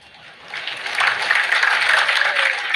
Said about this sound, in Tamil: இப்ப கைத்தட்டல் கூடுதலா வரும் பாருங்க